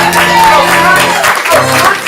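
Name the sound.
audience cheering wildly for captains at improv comedy show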